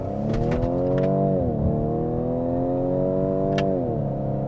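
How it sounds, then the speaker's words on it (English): A 2019 Ford Edge ST SUV launches and accelerates hard, its engine roaring loud and close through rising revs with a brief dip at a gear change before climbing again. "Letting that Ford Edge ST eat, Nolan."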